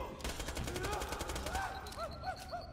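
Rapid automatic gunfire rattles in the video game Borderlands 2, a dense burst of shots followed by lighter chirping electronic effects, with a voice talking faintly underneath.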